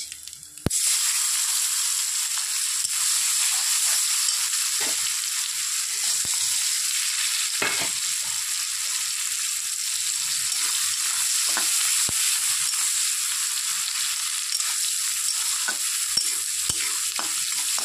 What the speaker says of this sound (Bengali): পেঁয়াজটা একটু ভাজা ভাজা করে নিতে হবে।